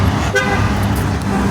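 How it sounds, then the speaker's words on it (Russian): A car horn toots on a residential street in Namangan's 6th microdistrict, a brief honk heard over a loud, steady roar of traffic and engine noise. "вот он подъезжает и сразу что-то впереди сигналит"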